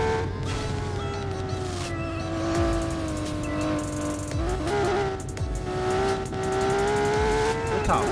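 A turbocharged car engine accelerates with a sustained rising and falling drone and whine close by, holding steady revs with a few shifts and faint voices underneath.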